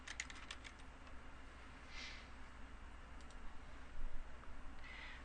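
Typing the name of a company into a financial database search box on a computer keyboard: faint, quick clicking keystrokes in a short burst, then a few scattered taps against a steady low hum.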